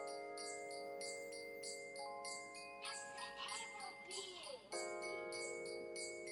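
Bright tinkling bell tones ring in a steady repeating pattern through a song, layered over sustained synth notes and a low beat, with a brief busier passage in the middle.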